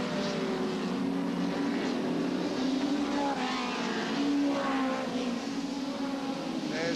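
Hot rod race cars roaring around a track at a 1980 Hednesford meeting, a steady blend of engine drones with several cars rising and passing, moderately distant and continuous.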